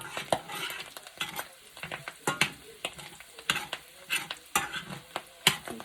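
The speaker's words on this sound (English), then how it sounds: "Just stir this around for, reduce the heat down even more here." Mushrooms in butter sauce stirred with a spoon in a pan over reduced heat: repeated scraping strokes and soft clatter over a steady sizzle, close and fairly loud, with no talking.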